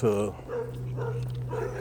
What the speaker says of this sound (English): Let me walk past these dogs.